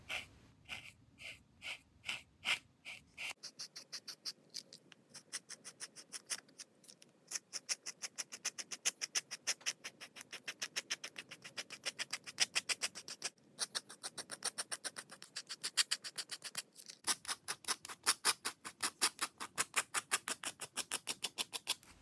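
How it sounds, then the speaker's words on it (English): A file rasps through fingerboard grip tape in quick, rhythmic strokes, close and crisp, dozens of short scratchy passes at a steady pace with a brief pause now and then, with no talk. "I'm going to stop talking for a bit until I file the rest of this out and appreciate the fingerboard grip tape ASMR"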